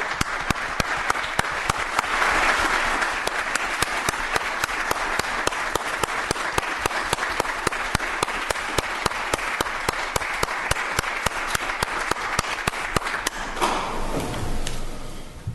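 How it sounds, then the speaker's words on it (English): Audience applause for firefighters at a State of the City address, sustained crowd clapping, loud and even, tapering off near the end with a few isolated claps and faint room noise. "We'd like to give them a round of applause."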